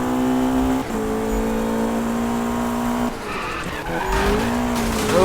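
A McLaren 570S with a grip setup in the Need for Speed 2015 racing game, its tires squealing in a long skid under a high steady engine whine that shifts pitch as the car slides and accelerates.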